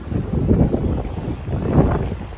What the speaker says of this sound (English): Hopefully this wind isn't affecting the sound.